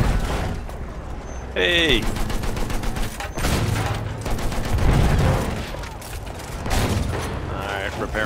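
Rapid automatic gunfire from a tank's side guns in a video game, with loud continuous bursts beside engine rumble and a brief spoken exclamation.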